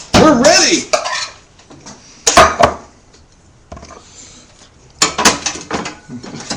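Dishes, pots and cutlery clatter in loud bursts while goulash is plated in a home kitchen, with quieter gaps between the clusters of clinks and scrapes.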